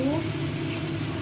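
Onion paste hitting hot oil in a frying pan while cooking rohu fish curry, a loud close sizzle that starts at once and holds steady for about a second, with a brief faint tone at the start.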